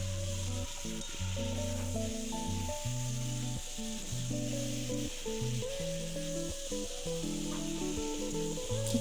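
Potato and coriander mixture stirred in a frying pan, steady soft sizzle with irregular scraping and clattering strokes of the spoon against the pan, close and fairly quiet.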